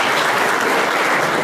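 Dense, continuous applause fills the room at a New Year's reception held by Die Linke. The clapping is close and steady for the whole moment, with no voices standing out.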